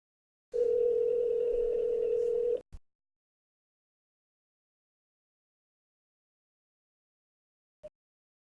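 A telephone tone sounds for about two seconds, steady and moderately loud, then cuts off with a click, followed by long silence and a faint brief beep near the end.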